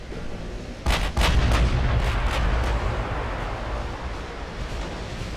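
Warship artillery fire in the naval video game Ultimate Admiral Dreadnoughts, a cluster of heavy booming salvos near the start followed by a long rumbling roll of sea and wind noise, no talking.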